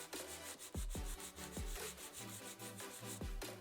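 A nail file rasps across a long acrylic nail in quick repeated back-and-forth strokes, close and steady, with soft bumps as the strokes change direction.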